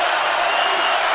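A basketball arena crowd roars loudly during a Wildcats conference game, a dense sustained cheer filling the whole short moment with no break.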